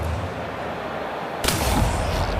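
A sharp, loud gunshot lands partway through as a headshot in The Outer Worlds 2, a sudden burst over a steady hum of background game ambience, then trailing into a rumbling echo.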